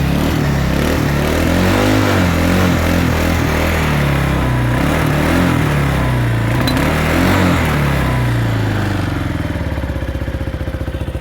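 A Kawasaki Bayou 300 KLF300C 4x4 ATV engine runs cold with the choke off, a loud close, uneven throbbing idle that rises and falls before settling into a steadier putter.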